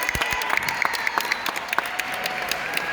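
Lively crowd applause at a Hispanic Heritage Month celebration in the New York Hall of Science, with sharp individual claps and a few cheers standing out from the steady clapping.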